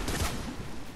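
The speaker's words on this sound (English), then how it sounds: "Oh, I'm getting shot at." Gunfire aimed at the player in Fortnite, a brief burst of shots with a strong low thump near the start, then a rough, noisy tail fading out over about a second, with no talk.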